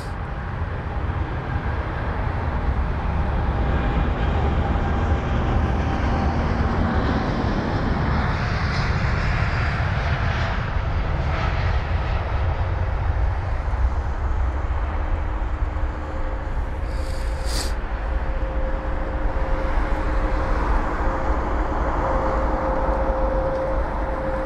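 An airliner at London Heathrow in low visibility roars loudly and steadily, its engine noise swelling and shifting as it moves, with no voices over it.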